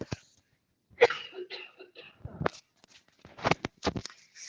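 A person coughs a few times in short dry bursts, close and fairly quiet, mixed with throat clearing and brief speech in a calm indoor setting.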